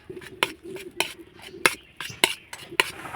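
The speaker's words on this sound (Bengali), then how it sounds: "দিয়ে ভালো করে আমের পেস্টটার সঙ্গে মিশিয়ে নিব" A spoon stirs orange food colour into mango paste in a bowl, producing a series of sharp clinks and scrapes about twice a second over a quiet background.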